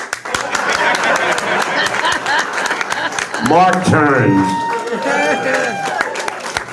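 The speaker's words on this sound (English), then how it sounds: "Can we please have a nice round of applause" Comedy club crowd applauds with dense clapping and some cheering, fairly loud and close, while someone speaks into the microphone over the noise partway through.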